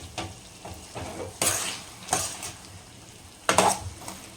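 Dried anchovy karuvadu thokku masala is stirred in a pan, giving faint scrapes and clinks of a spoon against metal in a few irregular strokes over a soft sizzle.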